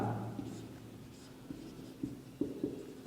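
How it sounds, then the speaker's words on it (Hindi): Chalk or marker writes on a board during a maths lesson on trigonometry, giving faint scratches and a few short taps over a quiet room hum, with a brief murmur of voice at the start. "चलिए मैं लिख देता हूं"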